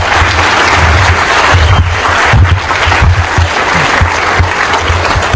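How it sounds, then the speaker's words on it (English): Dense, sustained applause from a large crowd at the DEF CON 10 hacking conference awards ceremony, loud and continuous throughout with no one speaking over it. "give yourselves a round of applause"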